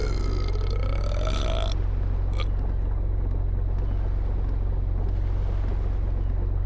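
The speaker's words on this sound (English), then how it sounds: "The captain burps audibly." A ship captain in the video game Inspector Schmidt - The Ebbing lets out a loud burp over a steady low engine rumble, with a short sharp noise following.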